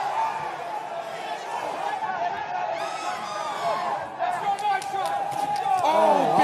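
A boxing arena crowd for an IBF cruiserweight championship fight surges into loud cheering and shouting, swelling toward the end, while a commentator talks over the noise.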